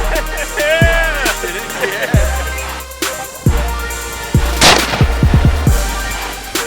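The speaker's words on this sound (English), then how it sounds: "you're blowing up that TV" Tannerite charges set off to blow up a TV at Memaloose Trail, Oregon: a series of sharp, loud blasts, some spaced seconds apart and a quick cluster near the end, each with a booming tail.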